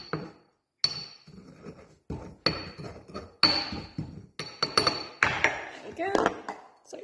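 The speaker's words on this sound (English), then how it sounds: "I like using a pestle mortar because it makes them feel fancy." Stone pestle grinding and clinking in a mortar while a rim mix for a michelada glass is prepared, heard as a series of close, sharp knocks and scrapes in irregular bursts with brief pauses.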